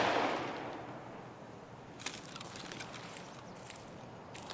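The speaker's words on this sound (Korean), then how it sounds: "이쪽을 보면서 쏘고 있어요, 지금." A quick burst of distant gunfire in the shooter game Escape from Tarkov, several short cracks in rapid succession after a fading rumble, faint and with no talk.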